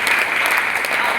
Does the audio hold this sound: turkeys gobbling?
no